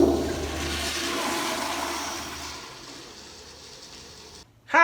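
A toilet flushes with a steady rushing swirl of water that slowly fades before cutting off abruptly, followed by a brief short sound.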